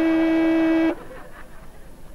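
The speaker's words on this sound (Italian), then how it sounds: "il clacson a comando vocale." A Renault Clio II One-O-One Edition with a voice-activated horn gives a single steady honk lasting about a second, followed by near silence.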